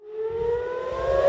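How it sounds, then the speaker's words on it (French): An air raid siren sounds over the Old City of Jerusalem during an Iranian missile attack, a single loud wailing tone rising slowly in pitch and swelling, with a low rumble beneath. "ce matin, le son des sirènes"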